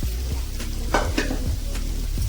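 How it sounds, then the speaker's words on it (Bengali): Fried potatoes with garam masala powder are stirred in a hot pan for a vegetarian biryani: an oily sizzle runs under a few quick scraping strokes of a spatula against the metal, close and clear. "আলুটা একটু নেড়ে নিয়েছি।"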